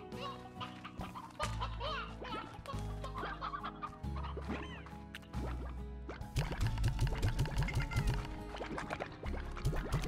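Chickens and hens cluck in the video game Slime Rancher, several birds overlapping in busy, irregular bursts over steady game music, with no talk.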